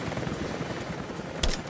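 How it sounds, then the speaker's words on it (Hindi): A helicopter in the video game Rise of the Tomb Raider throbs steadily with a rapid rotor chop, with a sharp burst near the end that sounds like gunfire. "मैंने सोचा हेलीकॉप्टर भी फायर करता हूँ, लेकिन निकल गया वो पहले"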